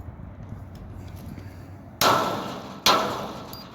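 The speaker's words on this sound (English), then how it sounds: "we're just smacking the steel gate with a hammer" A hammer strikes a steel sliding gate twice, loud clanging impacts with bright metallic ringing that decays over a low background hum, no speech.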